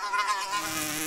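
A fly buzzes briefly nearby, a thin whining drone that wavers slightly in pitch.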